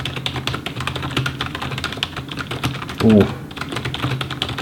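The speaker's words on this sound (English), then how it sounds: "I got this typing test here, so I'm gonna first just type with it for a while and see how it feels like." Steady, rapid typing on a Razer Cynosa V2 RGB membrane gaming keyboard gives soft, close clicks in continuous bursts, with a brief exclamation partway through.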